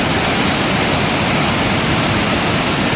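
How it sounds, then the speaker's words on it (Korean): Victoria Falls, seen up close from the Zambian side near Livingstone, roars as a loud, unbroken wash of broadband noise, steady and overwhelming with no voices. "잠비아에서 보는 이 빅토리아 폭포는"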